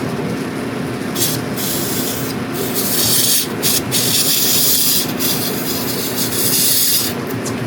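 Paint spray gun with a 1.4 nozzle hissing steadily as it sprays a 370Z race car, a loud continuous broadband rush with brief pauses between passes.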